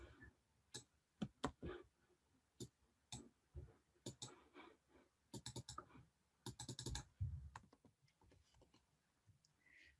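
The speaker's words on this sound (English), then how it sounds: "I wanted to type in this." Typing on a computer keyboard, close and fairly quiet: irregular bursts of crisp key clicks with brief pauses, a denser flurry in the middle, and no talking.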